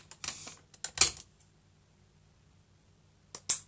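Old scissors snipping off material for a pumpkin centrepiece: a quick cluster of sharp clicking cuts early on, a louder snip near the one-second mark, then quiet until two more crisp snips at the end.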